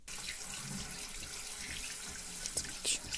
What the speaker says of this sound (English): I will open water.